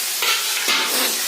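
Bean curry with ground peanuts sizzles and fries in a pan, a loud continuous crackle with two short bursts of stirring scrapes layered over it.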